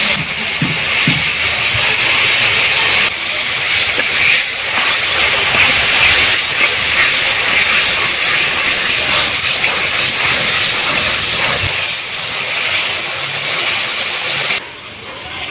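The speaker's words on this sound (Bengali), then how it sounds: "মশলা থেকে তেল ছেড়ে গেছে, মশলা কষানো হয়ে গেছে" Spice paste for a fish curry of live pond lata fish with mustard and poppy seed fries in oil with a loud, steady, close sizzling hiss that continues throughout.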